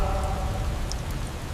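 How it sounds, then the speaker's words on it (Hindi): Heavy rain pours outside in a dense, steady hiss that fills the space, loud and continuous, with no other sounds standing out. "बाहर इतनी तेज बारिश है"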